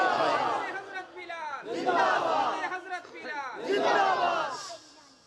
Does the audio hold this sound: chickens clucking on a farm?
no